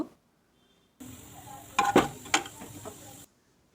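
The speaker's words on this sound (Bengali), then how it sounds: "পাঁচ ফোড়নটাকে ভেজে নেব আদা কুচিটাও সঙ্গে দিয়ে দেব দিয়ে ভালো করে ভেজে নেব" Panch phoron and chopped ginger fry in hot mustard oil for samosa filling, a sudden steady sizzle starting after a second of silence, with a few louder scraping stirs in the middle before it cuts off.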